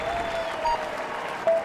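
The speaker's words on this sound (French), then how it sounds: "Allez, on l'applaudit bien fort." Applause from a crowd at a Tour de France team presentation in Utrecht, a short burst of dense clapping at moderate distance, steady throughout with a slight swell at the end.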